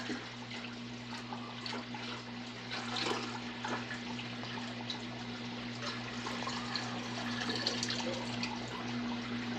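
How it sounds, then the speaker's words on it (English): Water pours steadily as an aquarium tank is refilled with fresh green water from a green water generator, a continuous close splashing flow with a low steady hum underneath. "Starting to refill it with some fresh green goodness from my green water generator."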